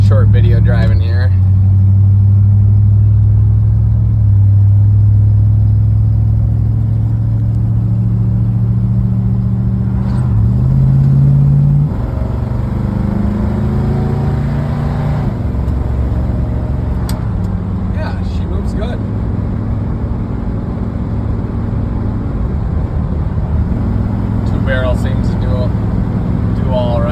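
A 1966 Plymouth Fury with a 383 V8 drives along, its low engine rumble steady and loud with shifts in pitch as it accelerates, while occasional clicks and rattles sound over it from inside the car.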